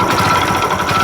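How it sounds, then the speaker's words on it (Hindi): A Hero Splendor Plus motorcycle idles just after starting, a close, loud, even engine drone with a fast steady ticking clatter and no breaks. "ये देखिएगा बाइक अपनी स्टार्ट हो गई है और आप इसके साउंड सुनिए।"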